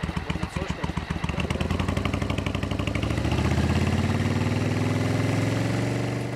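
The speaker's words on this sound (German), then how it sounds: "Gesucht werden weiter frisierte Motorräder." A tuned motorcycle engine revs loudly with a rough, pulsing exhaust, then settles into a steady high rumble, close up and sustained.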